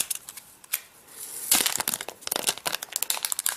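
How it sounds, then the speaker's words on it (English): Crinkling and crackling of plastic wrap being pulled off the aluminum remote of a third-generation Apple TV, quiet rustling at first, then loud, close, busy crumpling for about two seconds with no talking. "So let's unwrap that."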